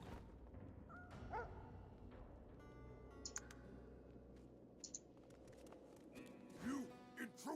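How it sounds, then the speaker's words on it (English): Hellhound dogs in the Divinity 2 Original Sin video game bark and yelp in a few scattered bursts over a dense game soundscape, with a voice speaking at times. "Holy hellhounds. Those dogs sound out for blood."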